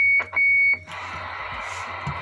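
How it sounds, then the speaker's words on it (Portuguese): Two short electronic beeps, then a sustained roger-beep tone from a VR94M radio transceiver on AM sounds over radio hiss, clear and close. "O bip foi alongado, com a opção de ligar e desligar"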